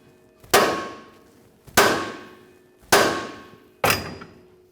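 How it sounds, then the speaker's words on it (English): Hammer blows striking the lower control arm on a 1994-1997 Honda Accord to shake a ball joint loose: four sharp metallic strikes at roughly even intervals, each ringing briefly before dying away, close and alone. "we'll continue on with a hammer and tap on the lower control arm"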